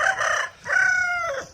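A chicken gives two drawn-out, squawking calls close by, separated by a brief pause, with no speech.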